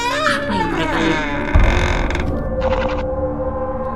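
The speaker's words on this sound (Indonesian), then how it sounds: "si Adam lah yang berjalan di depan untuk membuka pintu gereja" Old church door creaking slowly open, a drawn-out, wavering groan of hinges with a heavy low thud partway through, close and loud under an eerie background.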